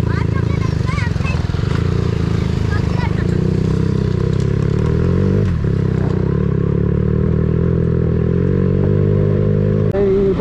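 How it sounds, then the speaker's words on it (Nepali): A motorcycle on a weekend group ride to Hattisar rumbles with a steady engine drone throughout, close and loud with occasional clatter, while a rider talks over it. "उसको बाइक चलाइरहेको छु"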